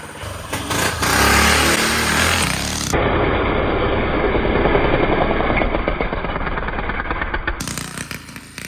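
A Manco Dingo go-kart engine runs close by with a loud, continuous buzzing drone that holds a steady pitch, with slight surges in intensity and no pauses.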